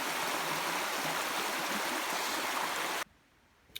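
River water rushes and streams steadily as someone wades across in river boots on a hammock and woodland camping trip, a broad continuous wash that cuts off abruptly near the end, leaving near-quiet with a small splash.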